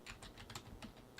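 Quick keystrokes on a computer keyboard, about eight soft clicks in an uneven rhythm over about a second, close and quiet with no voice.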